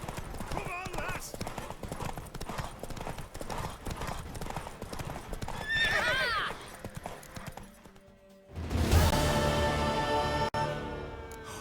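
Galloping horse hooves in The Witcher 3 Wild Hunt: rapid, rhythmic clip-clop close up, with a brief whinny partway through, voices speaking over the ride, and a heavier burst of sound near the end.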